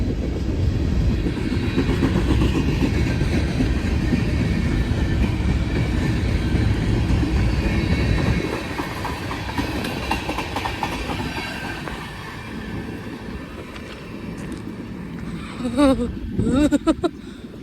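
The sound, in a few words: freight train passing on rails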